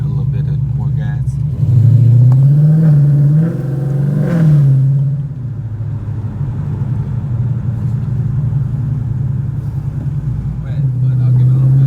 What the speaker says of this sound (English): I give it a little bit of more gas.